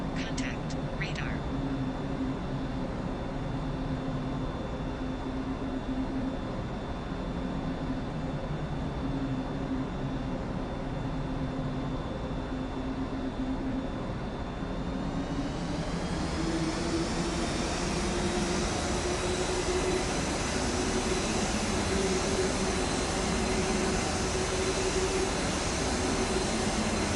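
Simulated Lufthansa A340-300 jet engines spooling up for a night takeoff from Mumbai, a steady broadband roar that swells and brightens midway and holds loud to the end, with faint cockpit radio talk early on.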